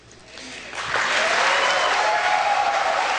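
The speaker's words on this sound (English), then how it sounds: "Hold the applause." Applause from a large crowd at a South Carolina presidential debate swells after a quiet start and holds steady, a dense continuous wash of clapping.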